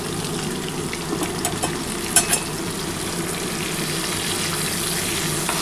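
Ginger garlic paste, onion and tomato with a little added water sizzling in a pan, a loud continuous frying hiss with a couple of brief spoon scrapes, close up and free of talk.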